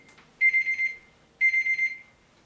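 A timer alarm goes off with two bursts of rapid, high electronic beeping, each about half a second long and separated by a short gap. The beeps are loud, close and clear against near silence.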